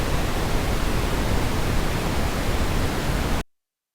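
Steady broadband noise from a test file played back in Reaper, a flat, even hiss filling the whole range at constant loudness, cutting off abruptly just before the end.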